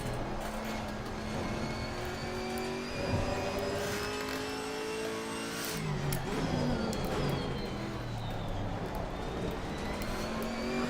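A Chevrolet Camaro GT4 race car engine in a racing video game at Laguna Seca, droning steadily as it revs up and down through gear changes, loud and continuous with no talk.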